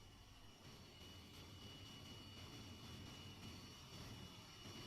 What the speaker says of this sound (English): The plane is starting up.